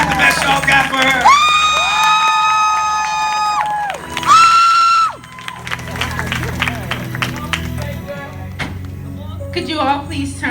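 A church congregation claps and cheers loudly, with sustained shouted and sung voices rising above the crowd before the noise settles into scattered clapping and chatter.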